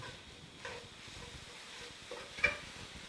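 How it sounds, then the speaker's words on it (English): Chipotle seasoning being stirred into meat in a hot pan: soft scraping of a spoon with a low sizzle underneath, fairly quiet and close, one slightly louder clatter near the end. "we're going to stir that in and see how it turns out"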